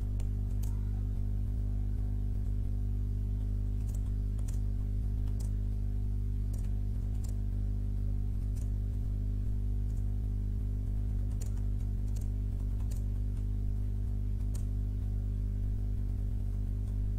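Soft, irregular keyboard clicks as paragraph text is typed into MS Word 2010, faint individual taps over a steady low electrical hum, no voices.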